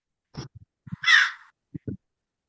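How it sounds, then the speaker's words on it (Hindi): A recorded crow gives one harsh, loud caw, surrounded by a few soft clicks and brief taps. "किसकी साउंड है ये? मैम कौवे की।"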